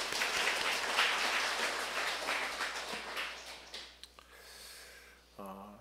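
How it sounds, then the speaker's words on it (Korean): A church congregation claps together, a dense burst of applause that thins out and fades toward the end, followed by a brief voice or tone. "우리 박수로 하나님께 영광 드릴까요?"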